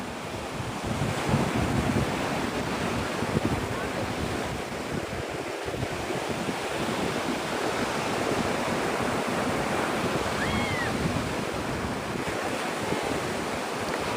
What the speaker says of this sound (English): Can you guys hear the ocean in the background?